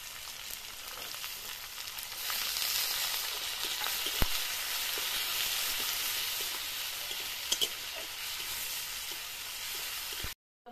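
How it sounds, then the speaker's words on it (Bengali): Chopped onion frying in hot oil, a continuous bright sizzle holding steady for several seconds with a few sharp ticks of stirring, close and unaccompanied by talk. "এবারে পেঁয়াজ কুচিটা দিয়ে দেবো।"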